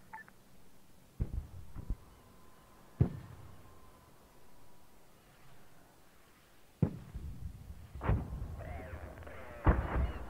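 Artillery shells exploding in the Arma 3 video game, a series of sharp booming impacts spread irregularly over several seconds, some distant and faint, later ones louder and closer.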